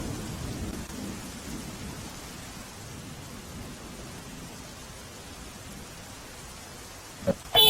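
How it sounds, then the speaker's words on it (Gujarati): Steady rain falls across Navsari district in Gujarat, a dense even hiss of drops, with a low rumble of thunder at the start and a couple of sharp louder bursts near the end. "નવસારી શહેર સાથે જિલ્લાના તમામ તાલુકામાં વરસાદ વરસી રહ્યો છે"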